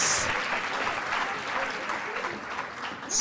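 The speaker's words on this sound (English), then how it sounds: "a round of applause for our panelists" An audience at a gender equality conference on food, land and water systems claps for its panelists in a steady burst of applause lasting a few seconds.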